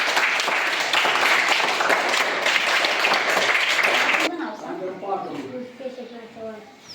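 Loud applause from schoolchildren at a primary school quiz program after a correct answer, steady dense clapping for about four seconds that stops abruptly, followed by a voice speaking.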